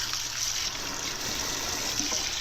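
Tap water runs steadily while paint brushes are rinsed under it, making a continuous close hiss and splash with no voices.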